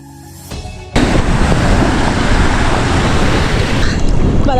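Ocean waves breaking on a wild Greek beach: after a quiet start, a loud roar of surf bursts in and holds as a dense, steady wash of crashing water with wind buffeting the microphone.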